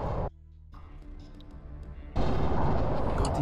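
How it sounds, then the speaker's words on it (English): Gunfire and artillery in the Original War strategy game, a loud burst, a quieter lull with scattered reports, then heavy sustained firing and booming resumes at close range. "Someone is shooting at me"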